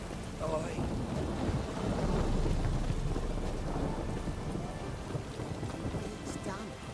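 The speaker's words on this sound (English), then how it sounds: "It's raining, of course." Steady rain with low rumbling thunder in The Witcher 3: Hearts of Stone, a continuous dense wash throughout, with faint voice sounds briefly over it.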